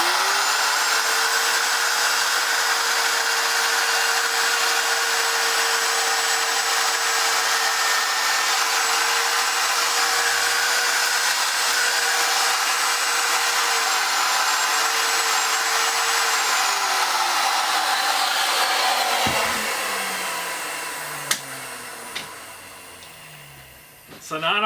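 A router bit cuts a notch in wood for a wooden bar clamp, giving a loud, steady high whine for about seventeen seconds that winds down as the motor spins to a stop, followed by a few knocks and handling sounds.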